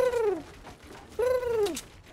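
A voice imitates a cooing bird call during a Fortnite session, two drawn-out falling hoots with a pause between, close and fairly loud.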